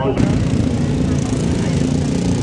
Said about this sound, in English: We're watching lawnmower racing.